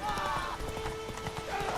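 Horse hooves galloping in Witcher 3, a rapid clip-clop rhythm under music and other game sound, with a voice talking over it.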